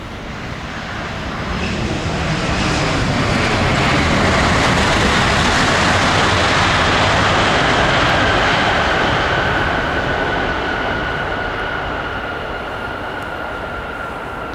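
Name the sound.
Vietnam Airlines 100th aircraft, Airbus A350, landing on runway 07L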